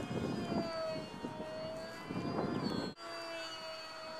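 A steady high electric motor whine with a propeller buzz from a flying RC pylon racer model airplane, drifting slightly in pitch, with a faint rustle underneath and a brief dropout near the end.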